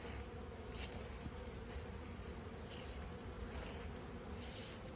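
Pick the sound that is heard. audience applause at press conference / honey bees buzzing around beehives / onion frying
honey bees buzzing around beehives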